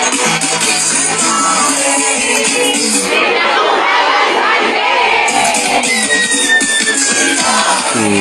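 A large concert crowd cheers and screams in a loud, continuous roar, with shouting voices and whoops layered over the mass noise for several seconds.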